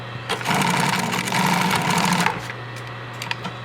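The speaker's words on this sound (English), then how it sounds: "I'll lift the foot up, and I go and sew another line just like that" A sewing machine stitches a zipper stop in a steady, close mechanical run of about two seconds, pauses briefly, then gives a few short clicks and bursts as the presser foot is lifted.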